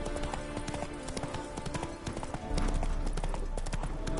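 Horse hooves clip-clop steadily in The Witcher 3: Hearts of Stone, a continuous rhythmic trot that grows slightly louder partway through, heard over game music without speech.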